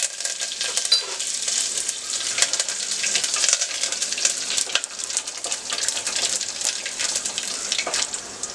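Curry leaves, cumin and mustard seeds sizzle in hot oil for a masoor dal tadka, a loud continuous crackling hiss with sharp spitting pops throughout.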